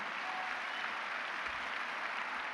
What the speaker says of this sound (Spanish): Si es para Dios, tiene que ser más fuertes esos aplausos